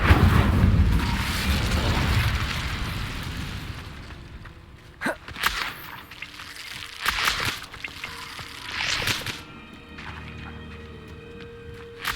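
The Incendio fire spell in Hogwarts Legacy opens with a loud, sustained roaring whoosh of flame that fades after a few seconds, followed by several sharp bursts and crackles at a lower level.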